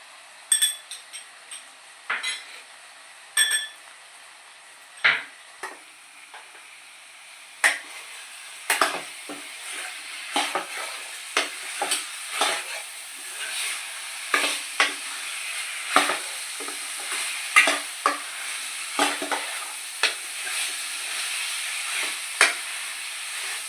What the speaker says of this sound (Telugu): ఆ చికెన్ కొంచెం వేగే వరకు కలుపుతూ ఉంచుకొని ఉండాలండి